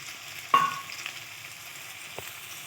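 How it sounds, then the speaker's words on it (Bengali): Marinated prawns dropped into hot oil in a pan give a sharp burst of sizzling that fades into a quieter, steady fry with a faint tap near the end. "এখানে আবার তেল দিয়ে দিলাম, দিয়ে ম্যারিনেট করা চিংড়ি মাছগুলোও দিয়ে দিলাম"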